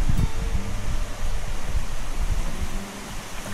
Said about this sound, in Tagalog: naririnig mo lang yung hangin tsaka yung pagaspas ng puno